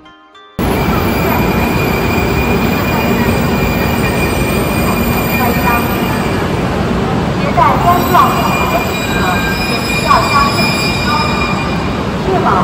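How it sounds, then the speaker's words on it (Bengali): A Chinese high-speed bullet train in Shanghai gives off a loud, steady rumble with a high whine and faint metallic squeal. It starts abruptly after a brief quiet moment and keeps going, with slight surges near the end. "তো এই হলো চায়নার বিখ্যাত বুলেট ট্রেন।"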